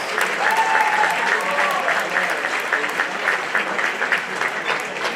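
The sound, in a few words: audience applause at a high school event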